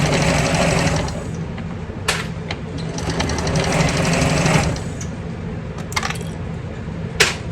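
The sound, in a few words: sewing machine stitching handbag seam at 3/8 inch allowance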